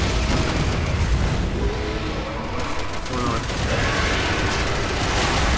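Gunfire aimed at a gas tank in Resident Evil 6: a dense, loud barrage of shots and booms layered over chaotic game noise, with voices speaking through it.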